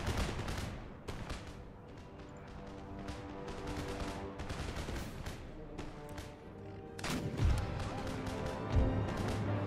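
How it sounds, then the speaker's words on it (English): Repeated booming cannon canister volleys in an Empire: Total War battle, a dense volley of heavy shots with sharp onsets and rumbling tails, loud and close. "Another canister volley."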